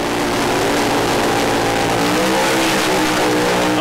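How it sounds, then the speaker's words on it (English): Alcohol-fuelled drag racing car on the start line in the final of the alcohol class at an ANDRA meeting in Adelaide, its engine revving loud and sustained with a rising harsh roar filling the whole stretch. "as the revs come up"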